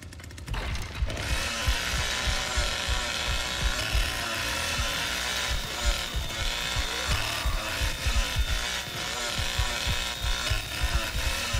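Chainsaw engine from The Texas Chain Saw Massacre game revving and sputtering in steady bursts, loud and continuous, with rapid low pulsing throughout and a brief burst of clatter at the start.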